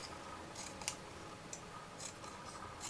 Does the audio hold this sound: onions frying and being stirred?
no